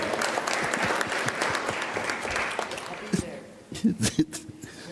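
An audience at a regional civics bee competition applauds, a broad rush of clapping that fades out after about three seconds, followed by a voice beginning to speak over the last scattered claps.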